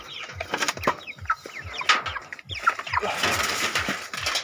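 Several chickens cluck and chatter continuously on a small farm, with short repeated calls layered over one another, fairly close and steady, with no talking.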